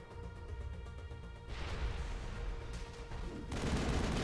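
Gunfire and a grenade blast in Mass Effect, a continuous rumbling rattle that jumps louder twice, a heavy burst near the middle and another toward the end, fairly faint overall.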